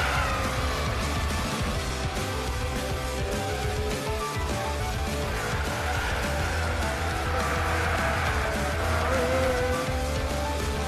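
A Pagani Zonda C12 racing in Gran Turismo 6, its engine roaring loud and unbroken throughout, with tire squeal and skidding layered over the drone.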